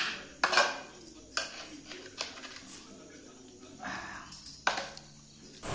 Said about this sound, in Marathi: मी पळीच्या साहाय्याने ती भाजी फोडणीमध्ये मिक्स करत आहे